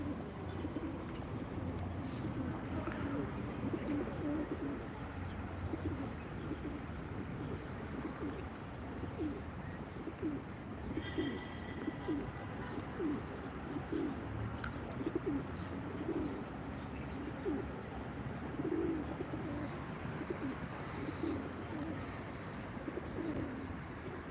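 Pigeons coo repeatedly against a steady outdoor hum at a pigeon auction, with soft rustles and no talking.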